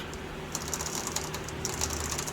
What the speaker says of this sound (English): as I twist the bottle jack down, it pushes the inner part of the bushing out